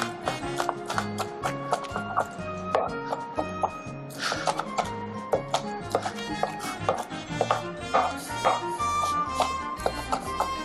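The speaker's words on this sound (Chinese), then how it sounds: "然后我们就把它稍微剁碎" A knife chops flaked mackerel on a cutting board in a rapid, steady run of crisp knocks, with music playing underneath throughout.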